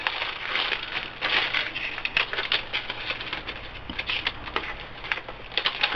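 A plastic geocache bag holding a paper log crinkles and patters in close, busy handling, with irregular rustling bursts throughout.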